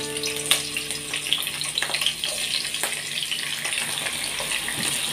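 Garlic and onion sauté in a hot pan for a bitter melon and egg dish, giving a close, steady sizzle with scattered scrapes and stirring clatter.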